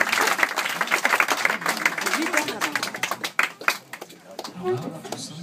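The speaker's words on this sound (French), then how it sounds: "Merci de les applaudir." An audience at a hypnosis show claps loudly and continuously, the applause thinning into scattered claps near the end while a voice speaks over it.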